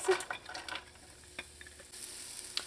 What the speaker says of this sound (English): To the oil, I'm going to go in with some onions